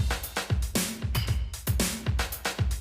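A busy drum pattern, built in MTV Music Generator and run through a long chain of effect plugins, comes out punchy and full. Dense kicks and bright snare or cymbal hits repeat rapidly with no talking.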